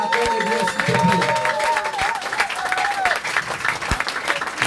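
A church congregation applauds to welcome a pastor onto the stage at an evening service, a dense, steady wall of clapping with crowd noise and scattered voices throughout.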